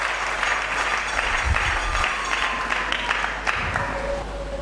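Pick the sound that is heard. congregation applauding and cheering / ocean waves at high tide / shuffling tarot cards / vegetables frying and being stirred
congregation applauding and cheering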